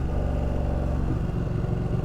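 Ducati 1299 Panigale running on its stock exhaust while riding, a loud continuous low engine drone with steady pulsing rumble and wind noise throughout, no talking.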